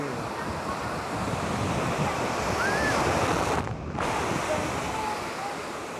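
Sea waves wash in at Kavvayi beach near Payyanur, making a continuous, full surf roar mixed with gusty wind buffeting the microphone. The sound stays loud and steady throughout, with a brief dip near the middle.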